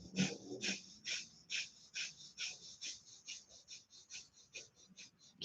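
Rapid rhythmic exhales during hatha yoga, a dozen quick sharp breaths puffed out in steady succession, close and fairly quiet, with no talking.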